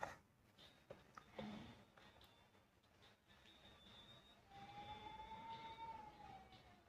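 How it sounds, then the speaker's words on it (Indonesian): Cats fighting outdoors, with a few faint, distant meows and yowls, one long drawn-out wail toward the end, over low background noise. "di luar ada kucing berantem lagi"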